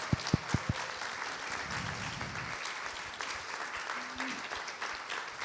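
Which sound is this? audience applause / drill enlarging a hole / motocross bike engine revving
audience applause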